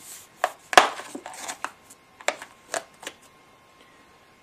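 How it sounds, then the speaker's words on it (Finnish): Firmly wrapped cardboard parcel from the post being handled and opened, with a series of sharp, brief crinkles, taps and scrapes at irregular intervals, close and fairly quiet, with no talking. "Kun tää on niin jämäkästi paketoitu tää paketti, niin... Mistä tän sais auki?"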